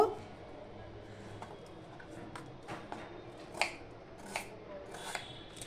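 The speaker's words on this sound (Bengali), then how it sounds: "আলুটাকেও আমি এইভাবে ছোট ছোট করে কেটে নেব" A knife cuts a potato into small pieces on a board for a vegetarian radish dish, a few sharp, quiet cuts and taps at uneven intervals against faint room noise.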